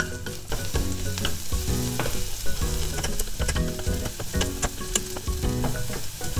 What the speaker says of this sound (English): I'm gonna fry the garlic just slightly so that it gets a little roasted flavor to it